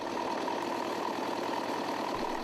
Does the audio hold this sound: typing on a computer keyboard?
no